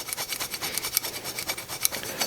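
A file scraping burrs off the throttle shaft of a Zenith 40 TIN carburetor, making a close, continuous rasp of quick back-and-forth strokes.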